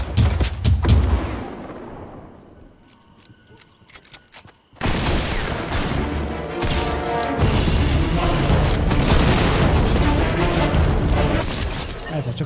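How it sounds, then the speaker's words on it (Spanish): Gunfire in the video game Fortnite: a burst of shots trails off into a quiet ringing tail, then a sudden loud barrage of rapid repeated shots and blasts continues densely to the end. "¿De dónde vienen los disparos?"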